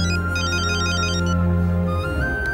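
A telephone ringtone plays loudly and steadily after a call is placed, a repeating electronic melody over a sustained tone that shifts near the end.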